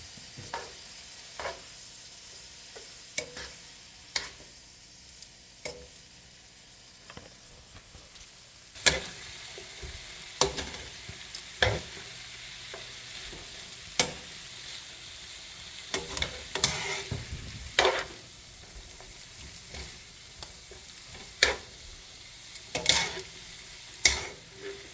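Hoisin chicken frying in a pan at home, a faint continuous sizzle broken by repeated clacks and scrapes of a utensil stirring and tossing the meat, close by with no talk.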